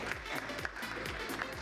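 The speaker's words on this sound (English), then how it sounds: "A big round of applause to this fantastic expert panel here." An audience at a cloud and infrastructure security panel discussion gives a brief burst of dense, steady applause, heard close and continuous for under two seconds.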